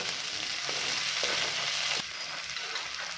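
Spices fry on a medium gas flame, stirred slowly for an aloo potol rossa, giving a close, bright sizzle with a few scraping strokes before the hiss suddenly drops to a softer, lower crackle.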